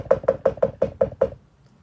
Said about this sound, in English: You can hear somebody knocking on your door right now.